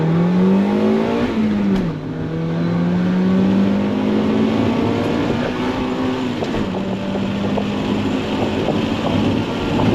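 A 1995 Acura Integra GS-R with a high-revving naturally aspirated engine pulls hard. The rising engine note climbs through the gears, with a brief dip at each shift, and wind noise rushes steadily underneath.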